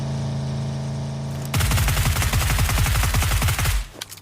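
A video game battle erupts into sudden loud automatic gunfire, a fast rattling burst of shots lasting a couple of seconds after a steady engine-like hum, then cutting off abruptly, with no talking.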